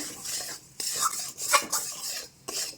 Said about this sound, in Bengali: সবগুলো উপকরণ দিয়ে সুন্দর করে আমার ভালো করে কড়াইতে নেড়ে মিশিয়ে নিচ্ছি।